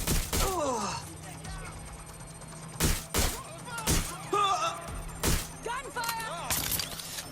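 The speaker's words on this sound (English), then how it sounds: "Gunfire!" Gunfire in the video game Watch Dogs: Legion, with several sharp, loud bursts spaced a few seconds apart over a steady hum and electronic chirps while characters talk throughout.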